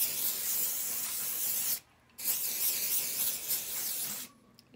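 Close, steady hissing spray bursts from an aerosol can of hair product, two long sprays separated by a short pause, with no talking.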